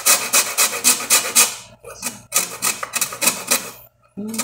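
Lemon peel scraped on the coarse side of a grater while making rice pudding gives rapid rhythmic rasping strokes, loud and close, broken by a brief pause midway and a stop near the end.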